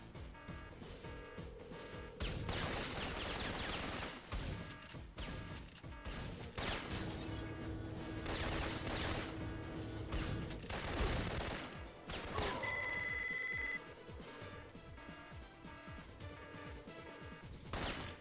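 Gunfire in the PS1 video game Syphon Filter, sustained loud bursts of automatic fire lasting several seconds each, separated by short gaps, over continuous game music and effects.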